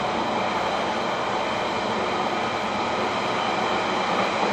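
A night train rolls past close by, a loud, steady wash of wheel and carriage rumble with no let-up from start to finish.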